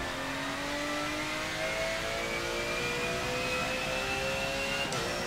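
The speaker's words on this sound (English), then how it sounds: "The thing definitely slows down nicely and sounds good on the downshifts." A car in Forza Motorsport 7 brakes and downshifts, its engine note sliding steadily downward in pitch, close and loud with no talk, ending in a brief blip near the close.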